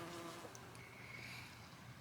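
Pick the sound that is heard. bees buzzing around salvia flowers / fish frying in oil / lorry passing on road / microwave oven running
bees buzzing around salvia flowers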